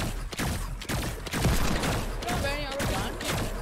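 Shotgun blasts in the video game Fortnite, a few sharp, punchy shots spaced irregularly over a busy game soundscape with mechanical clicks, while a player talks over the action.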